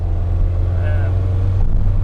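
A Fiat X1/9 mid-engine classic car pulls harder as it accelerates. The engine drone is low and close and sits under someone speaking Polish.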